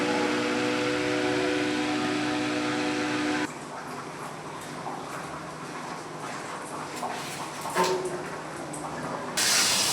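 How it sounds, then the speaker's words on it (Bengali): Palm fritters frying in oil give a steady, close hiss and sizzle, at first under a tonal hum that cuts off, with the bubbling continuing alone and a brief louder burst near the end. "পিঠা ভাজা হচ্ছে।"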